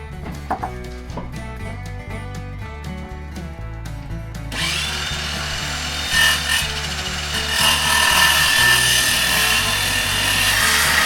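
Wooden floor joists being worked into an old farmhouse living room floor, with a scraping, rubbing timber sound under steady background music that grows into a continuous harsher rasping in the second half.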